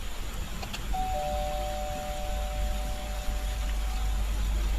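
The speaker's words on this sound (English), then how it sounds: "I pressed a finger against Kai's doorbell and waited as the sound echoed" An electronic doorbell at a house sounds one sustained, clear tone of a few seconds over a steady background hiss of rain, with no one speaking.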